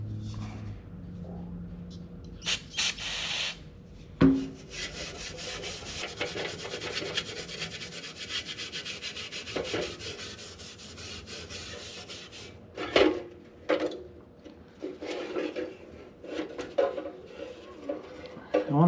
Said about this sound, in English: Now I'm going to use this softer Scotch-Brite and go over this fount just a little bit.